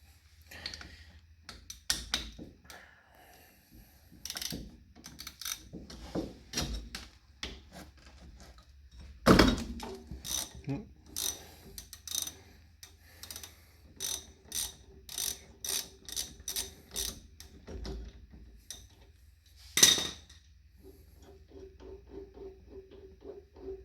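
A ratchet works a 14 mm caliper nut on a Jeep, giving rapid bursts of clicking pawl ticks, repeated in short runs with brief pauses, close and crisp with occasional metallic clanks.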